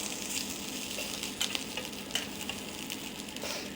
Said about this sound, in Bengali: এখানে আমি চাপা শুটকি একটু টেলে নিচ্ছি